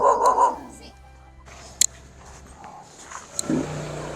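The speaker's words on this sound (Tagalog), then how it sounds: "May aso." A dog barks once amid a car and people talking, followed by a few short yips and whines.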